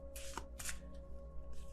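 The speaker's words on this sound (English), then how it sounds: "I love this deck, but it's really hard to shuffle because it's really big." Large deck of tarot cards being shuffled, two quick riffling bursts and a softer one, close and fairly quiet over a steady background hum.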